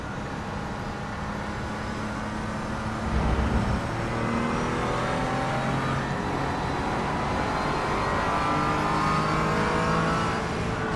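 A Porsche engine in a sim racing video game revving and pulling through the gears, a steady droning whine that rises in pitch in stages and holds loud and close for the whole stretch, with no speech.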